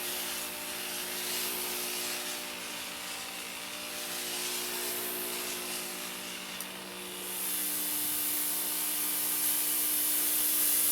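A handheld steamer hisses steadily while steaming a skein of Shetland wool yarn, a continuous close breathy rush that swells louder toward the end, with no talking.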